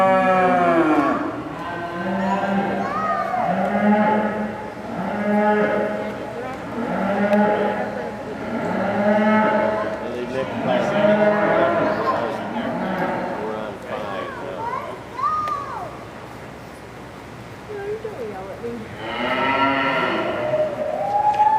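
Red Poll cattle heifers at a breed show low and moo in long, repeated calls, loud and near, with voices murmuring in the background.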